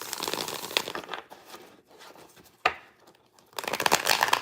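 Tarot cards are shuffled by hand in bursts of crisp riffling and rustling, with a sharp snap in the middle and a quieter pause before the shuffling resumes.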